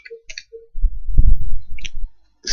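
Computer keyboard typing while entering Bootstrap 4 code for a collapsible hamburger navigation bar, a brief burst of close, dense keystrokes in the middle with a few faint isolated clicks before and after.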